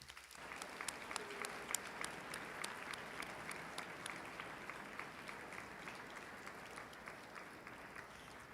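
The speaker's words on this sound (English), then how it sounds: "Seniors, please give a round of applause now for your families." High school seniors at an awards ceremony applaud their families, sustained steady crowd clapping from a hall full of people, even and continuous throughout.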